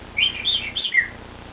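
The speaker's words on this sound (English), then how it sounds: "Did you take a nap this morning, Cutie bird" A pet bird gives four quick, high chirps in a short run, close and clear against a quiet room, with no talking during the calls.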